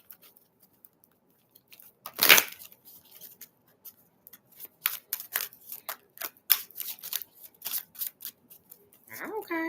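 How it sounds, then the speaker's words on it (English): Tarot cards being shuffled by hand in a quiet room, giving a run of crisp riffling snaps and soft patters close up, with a single loud burst early on and a voice starting at the very end. "I'm shuffling the cards."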